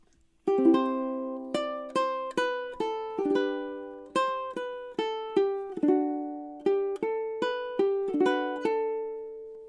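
Solo ukulele plucks measures 5 to 8 of Minuet in G, a clean, bright run of single notes in a steady, even rhythm, close and alone.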